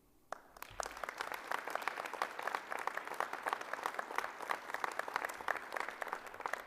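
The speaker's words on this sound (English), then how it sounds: "they all deserve our appreciation, our thanks, and a significant round of applause for their volunteerism and their efforts here" A seated audience at a Red Deer Polytechnic celebration gives volunteers a sustained round of applause, dense even clapping that starts abruptly after a brief pause and holds steady for several seconds.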